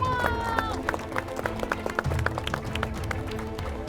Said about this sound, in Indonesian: Beri tepuk tangan sekali lagi boleh?